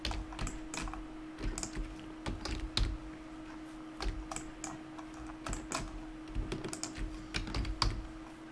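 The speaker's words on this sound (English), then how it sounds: "Control F G. We just got to go all around and do this." Computer keyboard keys are pressed in short irregular bursts of clicks while repeating Control F and G shortcuts during Blender modeling, close and fairly quiet over a faint steady hum.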